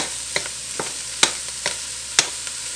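Eight ounces of mushrooms sizzle in oil in a pan for a veggie chili, a steady fry hiss punctuated by several sharp clacks and scrapes of stirring.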